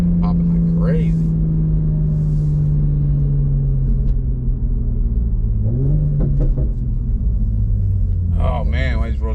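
Tuned 2020 Toyota GR Supra engine droning loud and steady at close range, its exhaust note shifting pitch partway through, with a few crackling pops near the end.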